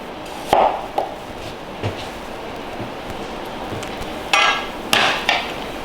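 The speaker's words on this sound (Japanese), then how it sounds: "包丁で潰して香りが出やすいようにしておいてください" A kitchen knife crushes ginger peel and the white part of a scallion on a cutting board, giving a few sharp, separate thuds and knocks spread through otherwise quiet kitchen background.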